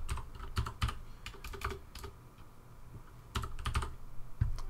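Someone types the word Pluto on a computer keyboard, a close burst of quick, irregular key clicks, a pause, then another short run of taps.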